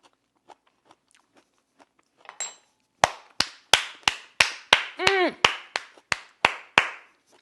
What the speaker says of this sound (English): Is it bad to applaud your own thing?